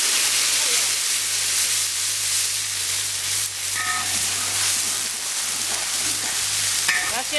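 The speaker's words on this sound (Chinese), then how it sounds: "这个1碗的剁辣椒下进去" A bowl of chopped chili paste goes into a hot wok of rapeseed oil and fries with a loud, continuous sizzle and hiss. Spatula scrapes and stirring come through close by, with no one speaking.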